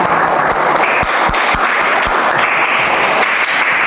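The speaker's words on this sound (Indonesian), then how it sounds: "Tepuk tangan untuk kita semuanya" Schoolchildren and teachers clap loudly and continuously after a Nusantara creative dance performance, with a few sharp individual claps standing out from the dense applause.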